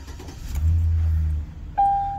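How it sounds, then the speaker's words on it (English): A car engine cranks and catches with a short low rumble during an oil change, followed by a steady warning chime tone, close and fairly loud. "I'm going to start the vehicle"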